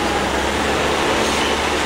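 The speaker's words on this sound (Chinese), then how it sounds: "然后准备搭乘这个少爷列车，复古的火车。" Botchan retro train at Dogo Onsen station, Matsuyama, heard as a steady, fairly loud rumble of rail noise filling the short moment with no voices.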